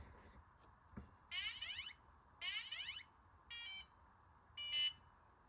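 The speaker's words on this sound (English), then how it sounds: "So I'm getting this annoying beeping over the red light." Four short bursts of high electronic beeping from a crawler ESC and motor combo repeat at a steady pace, each lasting about half a second, over a low constant hum.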